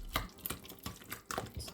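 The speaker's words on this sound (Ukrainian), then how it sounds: "Та трохи легенько перемішуємо." Cookie dough is gently stirred in a bowl, about six soft, irregular wet scrapes and thumps close by, with no talk.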